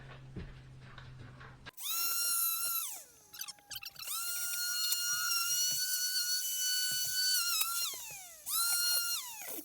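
Sandpaper sanding a cured epoxy countertop in an RV remodel, 120 grit, heard as loud, steady abrasive whirring passes that stop and start again, with quiet gaps in between.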